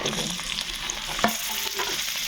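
Salted jujube berries fry in hot, smoking oil with a steady, close sizzle, broken by a single faint clink partway through.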